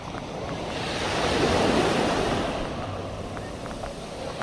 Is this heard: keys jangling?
no